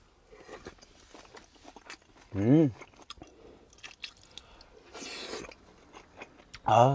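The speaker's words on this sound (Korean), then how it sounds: "김말이 마저 먹을게요" Biting into and chewing a dipped gimmari, a fried seaweed roll, with soft close crunches and squishy mouth sounds, interrupted by brief hummed voicing.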